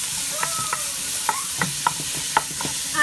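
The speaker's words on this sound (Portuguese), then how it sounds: "Vamos refogar aqui." Onion sautés in oil in a pan for chicken with okra, with a steady sizzle and repeated spoon clicks and scrapes against the pan.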